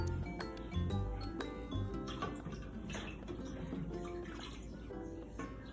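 Two cups of water are poured into a pot of chicken-broth wedding soup with simmered onions, carrots and celery, making a soft splashing trickle among light clinks and ticks of kitchen utensils, fairly quiet and close.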